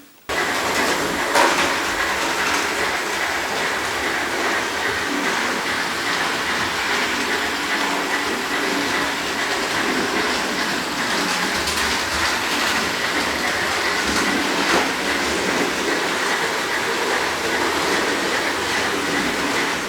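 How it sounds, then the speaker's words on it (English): A model train runs steadily along its track, a continuous close rumble with rattling wheel clatter that never lets up. "the answer is the trains are running"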